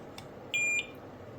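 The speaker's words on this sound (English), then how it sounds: "And now you heard the beep." A single short electronic beep from a wireless interconnected Wisualarm carbon monoxide alarm, high-pitched and steady, sounding once for a fraction of a second against a quiet room.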